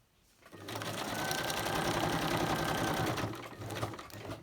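A sewing machine runs a short back stitch on a Christmas folder and gift pouch project, a steady close whirring burst of about three seconds that eases off, then a brief stutter as it restarts.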